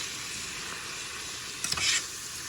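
Choy sum greens with a tablespoon of oyster sauce stir-fried in a pan, a steady close sizzle with a brief burst of louder scraping and clatter near the end as the mix is tossed.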